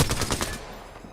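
Rapid automatic gunfire from a weapon in the Apex Legends battle royale game, a quick close burst of about five sharp shots over roughly half a second, then fading ringing tail.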